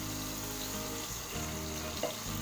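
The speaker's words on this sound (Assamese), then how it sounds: "লগতে পনীৰখিনি অলপমান সময়ৰ কাৰণে ফ্ৰাই কৰিম" Paneer fries in a pan with a continuous close sizzle and hiss, dipping briefly as the pieces are stirred, with no voices.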